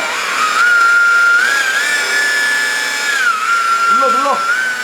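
A power sanding machine works a paint defect on a car's finish. Its loud, steady motor whine drifts slightly in pitch, and a short voice-like sound enters near the end.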